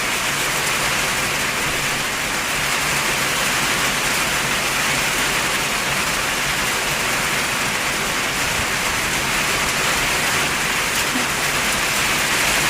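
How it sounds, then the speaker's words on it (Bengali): Heavy rain pours outside a window, a dense, steady roar of falling water with no breaks or voices, loud and even from start to finish. "প্রচুর জোরে বৃষ্টি নেমেছে।"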